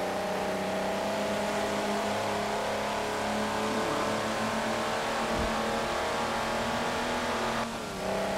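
A race car engine in Forza Motorsport 7 screams loud and close as it revs toward 8,500 rpm, pitch climbing steadily before a brief dip at the gear change near the end.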